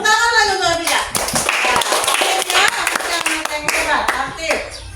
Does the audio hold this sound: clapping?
yes